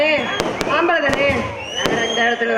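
Firecrackers crack in several sharp, loud bursts at uneven intervals, close by, over a steady background of voices and tonal noise.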